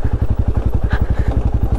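Royal Enfield Himalayan 450 single-cylinder motorcycle under way on a mountain road, its steady, rapid engine thump pulsing loud and close throughout with a brief windy swell in the middle, no talking.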